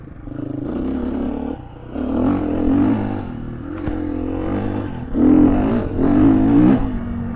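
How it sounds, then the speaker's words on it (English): Gas Gas EC 350F dirt bike (2021) engine with a stock EXC-style road muffler, revving in repeated bursts close by, rising and falling loudly across several throttle blips with no talk over it. "I was going to change the muffler to an SX muffler, but it's got plenty of noise."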